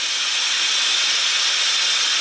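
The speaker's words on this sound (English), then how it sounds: "I'm going to release the valve by pushing the valve toward me." Steam hisses steadily from an Instant Pot pressure valve, filtered through a towel laid over it, a loud continuous broadband rush with no talking.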